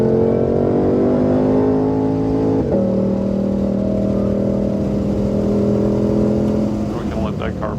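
A 2020 Shelby GT500 runs at full speed on a race track, its loud engine droning in a steady, high-pitched roar from inside the cabin, with a brief dip at one gear change before the note settles again.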